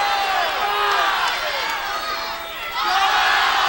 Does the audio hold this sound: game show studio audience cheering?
yes